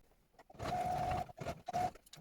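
Short bursts from a sewing machine stitching a slipper seam, two whirring runs close by separated by a brief stop, with fabric handling noises between them.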